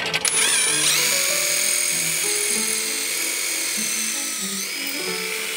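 A power drill bores a hole in quartz tile with a high whining spin that shifts pitch as the bit grinds, loud and close, with a brief rattling start and no talking.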